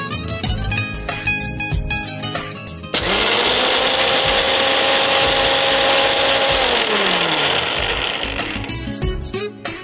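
A mixer grinder grinds peanuts into a fine paste for palakova. After a few soft clicks, its motor kicks in with a loud, steady whir for several seconds and then winds down.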